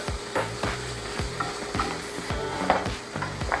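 Curry powder frying in a pan for a Thai tofu curry, a steady sizzle broken by regular scraping stirs of a utensil against the pan, close and clear with no talking.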